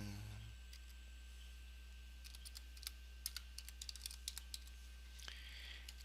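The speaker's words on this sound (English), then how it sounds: "I'll just type in my email" Typing on a computer keyboard while entering an email address, a quiet run of sharp, irregular key clicks over a low steady hum, with no talking.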